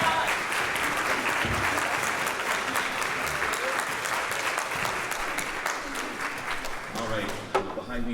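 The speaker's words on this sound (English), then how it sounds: "So a round of applause for all of those people." A concert audience at a high school orchestra spring concert applauds steadily and loudly, a dense wash of clapping that holds throughout and thins slightly near the end.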